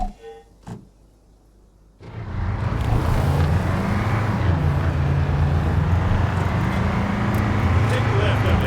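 A car starts moving in the video game Arma 3, a loud steady engine and road rumble rising after a brief quiet start and continuing under background voices.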